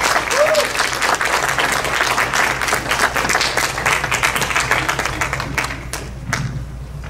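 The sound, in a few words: audience applause welcoming speakers to the stage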